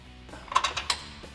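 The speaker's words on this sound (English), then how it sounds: "Now we can tighten that back down with a 21 millimeter socket and 21 millimeter wrench." A ratchet socket wrench tightens a factory bolt on a Jeep Wrangler JK suspension with a 21 mm socket, giving a short burst of three or four close, sharp ratcheting clicks.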